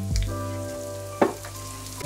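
Cereal patties topped with melting mimolette and parsley sizzle steadily in a frying pan, a loud close crackle with a brief clatter midway as they are turned.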